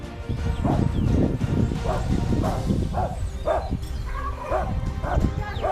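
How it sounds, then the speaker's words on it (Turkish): A dog barks repeatedly at a steady pace, somewhat distant, over a constant background hum, in a rural village in Kastamonu, Turkey. "Vefalı, dost bir köpek havlıyor uzakta"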